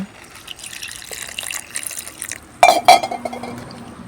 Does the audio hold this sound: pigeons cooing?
no